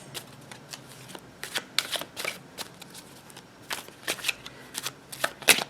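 Tarot cards are shuffled by hand close up, giving repeated crisp riffling bursts and soft snaps in an irregular rhythm with no talking over them.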